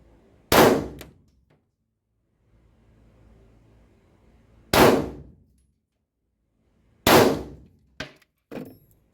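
A Girsan MC9 pistol fires three shots during zeroing at a target board, sharp loud cracks spaced several seconds apart, each with a brief ringing tail, plus a few fainter clinks afterward.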